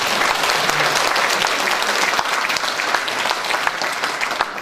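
Dense, loud audience applause at a political announcement event in Mokpo, continuous clapping from a crowd throughout with no break.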